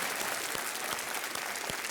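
Dense, even applause from a KBC quiz show studio audience fills the short stretch on its own, with no voice.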